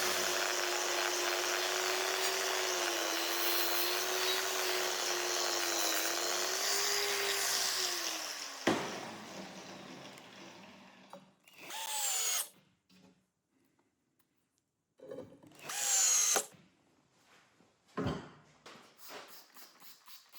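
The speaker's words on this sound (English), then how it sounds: "Back to the angle grinder with a fine sanding pad to strip off the post-quench oxidation layer." An angle grinder with a fine sanding pad strips the post-quench oxidation layer off forged Damascus steel made from car shock absorbers, whining steadily for several seconds, then stopping, followed by a few short bursts of grinding separated by quiet.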